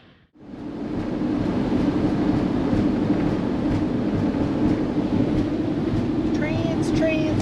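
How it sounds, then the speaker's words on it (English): Trains roll past in North Dakota near Teddy Roosevelt National Park, a loud, steady rumble and rush of rail cars that starts abruptly and holds, with faint squealing tones toward the end. "Trains and lots more trains."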